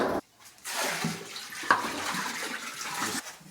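Water from a full shop vac pours out into a basement drain or sump pump, a steady close gushing and splashing stream that runs for a few seconds before tapering off.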